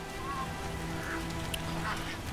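Rain falls steadily in The Witcher video game, a constant dense patter with faint tonal calls and hums layered over the wash.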